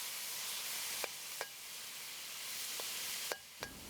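Dried pork and garlic fry in a hot pan, a continuous soft sizzle and hiss broken by a few sharp scraping clicks as the pieces are spread around.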